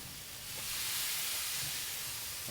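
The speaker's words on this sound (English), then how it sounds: "you hear that sizzle?" Meat sizzles over direct heat on a hot grill of a Cotton Gin smoker, a continuous soft crackling hiss that swells slightly and then holds steady.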